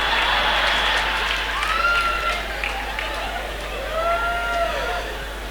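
Audience applause at a concert celebrating 40 years of a singer's career, sustained clapping from a crowd while a voice talks over it and a few high whistles rise above the noise.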